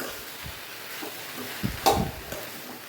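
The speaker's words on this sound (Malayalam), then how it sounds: "ഇനി അവിയലിനകത്തേക്ക് ഇട്ട് കൊടുക്കുക, ഇളക്കി യോജിപ്പിക്കാം." A spoon stirring ground coconut paste into avial, a mixed vegetable dish, in a pot: soft scraping and a few sharper clinks against the vessel, with a faint background sizzle and no talking.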